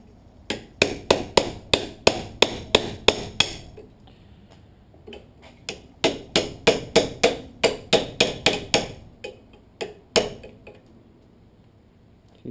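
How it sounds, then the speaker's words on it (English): A seat belt part from a 1989 Ford F-150 driver's seat, clamped in a vise and struck with a hammer: loud, close, rapid runs of sharp metallic blows, pausing briefly between bursts. "I'm going to beat on this a little bit more until it comes out"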